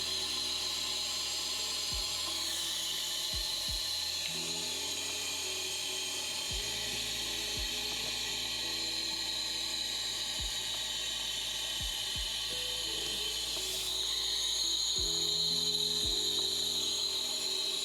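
Continuous hissing and sizzling from welding on a Datsun oil cooler line fitting, steady and close throughout, with occasional low thumps and clicks underneath and no talking.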